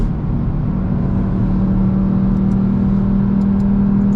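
A loud-exhaust Audi RS3, driven in dynamic mode after a downshift, holds a steady, heavy engine drone from inside the cabin, with no voices.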